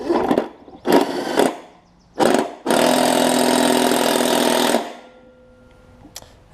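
Impact wrench on a Craftsman LT1000 riding mower snugging down the blades with a 9/16 socket: several short loud bursts, then a sustained rattling hammer of about two seconds, close and with no talking.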